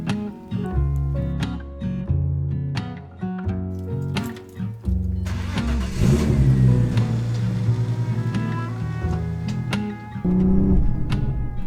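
Audi B5 S4 with a newly installed short shifter driving and accelerating, interior engine drone rising through revs with brief dips between gear changes, clicks and rattles of the cabin, no talking.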